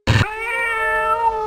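A cat meows in the video game Spud!, one loud sustained electronic-sounding meow starting abruptly and holding a steady tone, heard alone.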